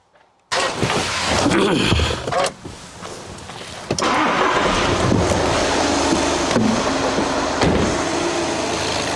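A Volkswagen Passat with a faulty charging system, alternator not charging properly, cranks and catches after a short silence, then runs with a steady engine drone and some wind noise through the rest.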